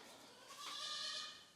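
A single faint Boer goat bleat rises briefly out of quiet background noise on a farm, somewhat distant.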